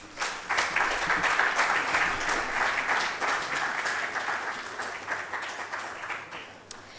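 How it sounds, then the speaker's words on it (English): Sustained audience applause at an inauguration ceremony for a genomic medicine building at the University of Ghana, a dense wash of many hands clapping that stays loud throughout and tapers slightly near the end. "Round of applause for her once again as she takes a seat."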